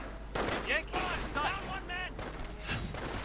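Gunfire and sniper shots in a World War II real-time strategy game, with infantry riflemen under fire. Repeated sharp cracks and bursts run steadily through the clip, mixed with game voice chatter.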